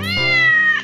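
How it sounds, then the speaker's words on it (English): A cartoon cat gives a single clear, drawn-out meow in a nursery-rhyme farm animal song, close and loud, with no voice over it. "the cat says meow to the turkey"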